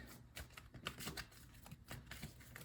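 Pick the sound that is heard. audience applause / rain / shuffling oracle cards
shuffling oracle cards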